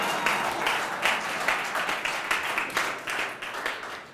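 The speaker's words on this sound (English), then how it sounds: "You're supposed to clap for that" Audience applause at a talk, a steady wash of many hands clapping that stays moderately loud and even for several seconds with no voices.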